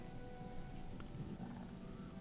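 Steady rain falls in the video game Gothic, a soft continuous hiss of drops spread evenly throughout with no other sounds standing out.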